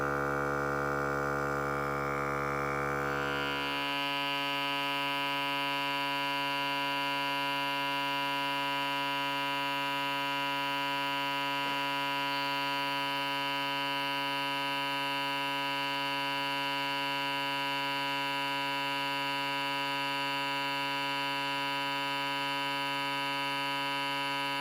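An Air Lift portable RV air compressor runs with a steady electric hum and whine that changes pitch after a few seconds, then drones on evenly and close, alone without voices.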